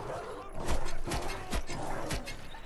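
Dogs bark in the video game Wolfenstein: The New Order, a run of repeated loud barks and yips over dense in-game noise.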